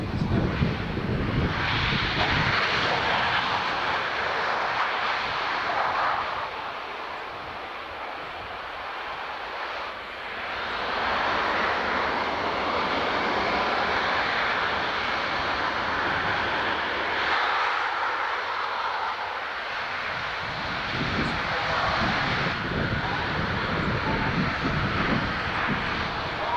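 A Boeing C-17 Globemaster III lands at an air show with its thrust reversers deployed, a loud, sustained broadband jet roar that swells and dips slightly across the pass, with faint voices underneath.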